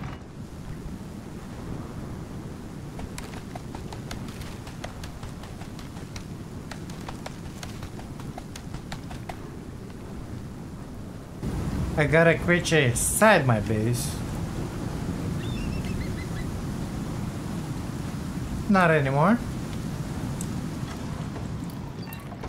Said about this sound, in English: Man, this storm is so goddamn loud.